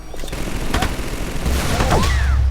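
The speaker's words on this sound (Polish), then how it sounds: "Uwaga, idzie minigun." Rapid minigun fire from the video game MicroVolts, a loud sustained burst of dense automatic shots with whooshing streaks of effects layered over it. Nobody speaks.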